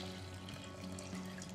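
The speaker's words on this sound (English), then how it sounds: "you are going to top all of this with enough water to cover the rice" Water pours steadily over rice and kombu in a cooking pot, a continuous close splashing rush that runs unbroken for its whole length with no voices.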